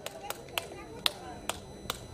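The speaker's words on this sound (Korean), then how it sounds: "자, 그때를 상기해서 박수 한번 해볼까요?" Six spaced claps ring out over about two seconds at a 3.1 Movement commemoration ceremony in Busan's Yongdusan Park, sharp and fairly evenly timed against a quiet room tone.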